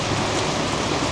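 Rain falling at a campsite among tea plantations near Bogor, with strong wind, a steady dense broadband wash close by with no talk.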